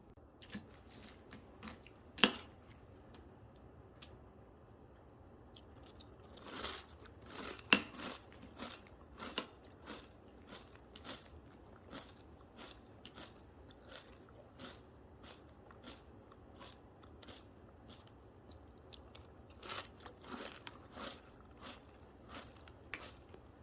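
Someone eating cereal from a bowl at home, soft crunchy chewing and faint spoon clinks close to the mic, quiet with occasional sharper clicks and no talking.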